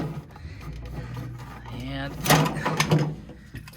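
A mini fridge thermostat assembly, from an Emerson CR282 unit that is not cooling, slides out of its housing with a brief scraping rattle, heard close alongside someone talking.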